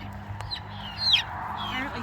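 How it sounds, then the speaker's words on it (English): Chickens behind an electric poultry fence clucking and squawking in short rising calls, fairly close over a low steady hum. "you making those chickies mad."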